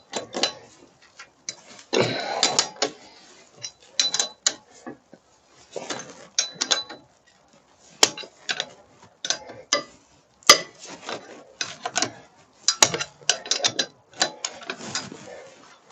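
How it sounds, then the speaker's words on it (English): Ratchet wrench loosening wheel bolts on a car before jacking it up for a brake disc change: repeated bursts of close, loud clicking with short pauses between sets, mechanical ratcheting alone with no talking. "So we must make all the bolts loose on both sides. We make this side too now."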